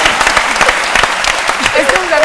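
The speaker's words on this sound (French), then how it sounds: "Alors, applaudissons de Femina" A studio audience claps for the Femina Comédie theatre troupe on a French-language talk show, with brisk applause running under overlapping voices and a few whoops.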